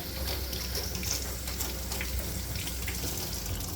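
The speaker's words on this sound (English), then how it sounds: "once you've peeled your potatoes, rinse it off" Running tap water splashes over freshly peeled potatoes in a kitchen sink, a steady close rinse with no talking.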